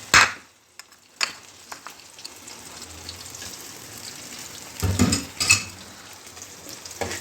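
Washed kamarkas roasts in a pan over a low flame: soft crackling and sizzling under scattered scraping and knocking as it is stirred, with a few sharper clatters and no speech.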